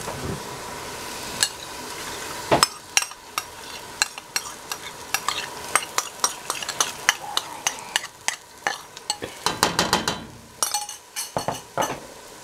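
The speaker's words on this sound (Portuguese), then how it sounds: "E vamos mexer aqui o nosso molho." A spoon stirs tomato sauce in a pot as potatoes cook the old-fashioned way, with repeated clinks and scrapes against the pan over a steady sizzle. The strikes come faster and closer together toward the end. No one speaks.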